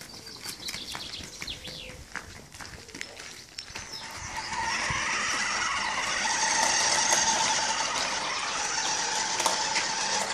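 A child's toy monster truck is steered along, its small motor rising into a steady whirring hum after a few seconds of quieter scuffing and handling noise.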